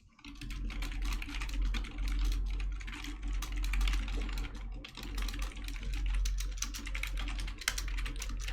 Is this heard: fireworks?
no